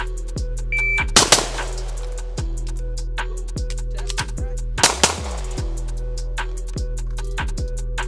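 Pistol shots fired during a shooting drill: two sharp, loud, close reports about four seconds apart, each a brief broadband crack standing out over a steady low hum, with no talk.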